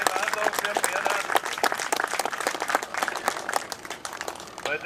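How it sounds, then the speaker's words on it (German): Applause rings out from spectators at a seaplane fly-in for RC scale models, following the water landing of an Aviatik Berg D.I model at 1:3.2 scale: dense, sustained clapping by a crowd outdoors while a voice keeps talking over it. "da heißt Applaus, wunderbare Landung für Bernhard"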